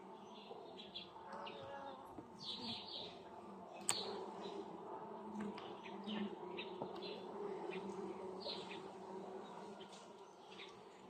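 Honey bees buzz around an opened hive from a colony split off a strong swarm, a soft continuous hum with brief, darting wingbeat swells, faint birdsong and a single sharp tap midway.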